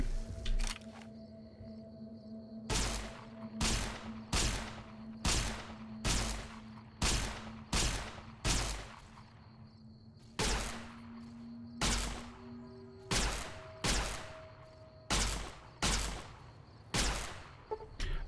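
Single gunshots ring out from a gun in Fallout: New Vegas, about a dozen sharp cracks at a steady, unhurried pace, each trailing a short echo over a quiet hum.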